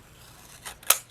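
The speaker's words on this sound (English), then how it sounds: "I'm also going to go ahead and cut off this sentiment" Scissors make a single quick, crisp snip through paper as a card sentiment is trimmed. A softer rustle comes just before it, close and alone in a quiet room.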